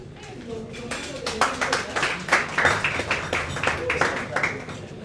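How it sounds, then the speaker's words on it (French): Audience applause at a press lunch on family planning, a dense run of many hands clapping for several seconds, loud and fairly close, with voices murmuring underneath. "Mais applaudissez comme il se doit."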